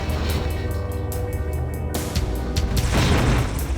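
A supersonic aircraft breaks the sound barrier in the war game Command & Conquer Zero Hour, with deep booming rumbles layered over dense battle noise and a sharp surge partway through, loud and continuous.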